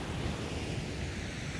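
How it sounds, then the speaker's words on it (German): Ocean waves wash onto the beach at Faro, Portugal, a continuous broadband roar of surf mixed with wind buffeting the microphone, with no voices. "Die Wellen sind sehr toll."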